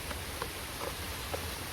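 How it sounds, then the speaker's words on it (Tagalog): Rain falls steadily outdoors during a test of flaming knives made with boric acid and methanol, a soft continuous patter broken by a few faint taps and bumps. "So umuulan na."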